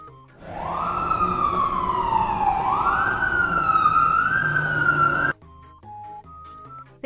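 A red fire engine siren wails loudly and steadily, rising and falling for about five seconds, then cuts off abruptly and gives way to a few quiet tones.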